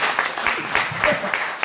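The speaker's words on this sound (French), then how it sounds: "Mais applaudissez-moi quand même." Applause from a congregation during a French-language church teaching service, short and fairly dense with a few sharper claps standing out over a background murmur.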